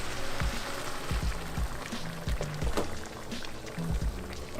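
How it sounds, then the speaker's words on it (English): Boiled water poured over quinoa for meal prep, a continuous close splashing, trickling pour with a few clunks of the container underneath. "And now you just add a bunch of boiled water."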